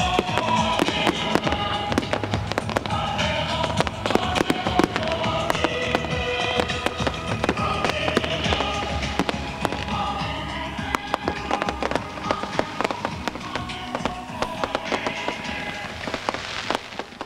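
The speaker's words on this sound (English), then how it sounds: "Grand finale to the evening is a firework display, which comes to a rather premature end." Fireworks crackle and pop continuously, dense bursts and bangs layered over one another at a steady distance, with no clear pauses.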